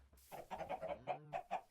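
Minecraft chickens clucking in a quick run of short, close, repeated squawks, about eight in under two seconds, with brief gaps between them and no talking.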